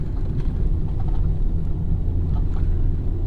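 Jeep Patriot climbing a snowy hill, a steady low engine rumble close by with wind buffeting and faint knocks, and no voices.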